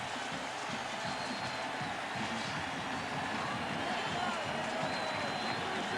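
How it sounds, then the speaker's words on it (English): A large stadium crowd at a 1998 NFL game, Minnesota at Baltimore, roars continuously after a kickoff return touchdown, a dense, distant-sounding wash of cheering with no break. "The crowd's going wild."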